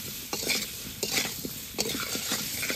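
Potatoes with salt and turmeric fry in a pan, with a soft steady sizzle broken by several distinct scraping strokes of a spoon stirring against the metal, close up and without talk.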